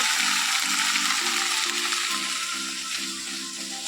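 Okra and potatoes frying in oil, sizzling loudly and continuously up close, with no talk over it.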